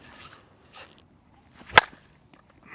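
An aluminum-alloy Victus Vibe USA Patriot slowpitch softball bat strikes a ball once, a single sharp crack standing alone amid faint background noise.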